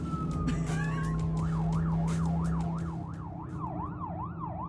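A wailing police siren in a video game rises and falls in steady cycles, loud and close, over a low rumbling engine drone with no talking.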